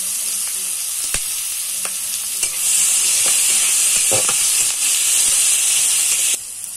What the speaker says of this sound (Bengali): পেঁয়াজ আর লঙ্কা একসাথে দিয়ে দিলাম। পেঁয়াজগুলো ভালো করে ভেজে নেব।